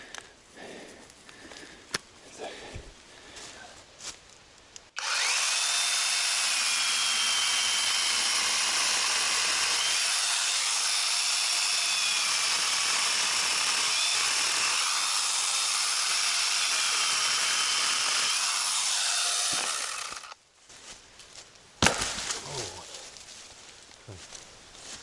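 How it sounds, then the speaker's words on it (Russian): Power saw cutting wood, a loud sustained whining buzz lasting about fifteen seconds, preceded and followed by quieter handling and rustling noises. "Ну что, посмотрим на пилку."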